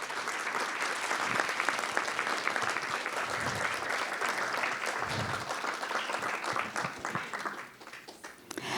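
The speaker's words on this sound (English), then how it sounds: "Can we give them a round of applause?" Sustained audience applause fills a school board of education business meeting room, a dense steady wash of many hands clapping for nearly nine seconds, with faint voices underneath.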